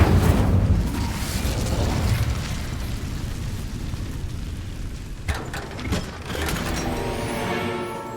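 Incendio fire spell cast in Hogwarts Legacy, a loud whooshing, roaring burst of flame with rumbling crackle, easing slightly then followed by a few sharp clicks and a renewed fiery surge near the end, no voices.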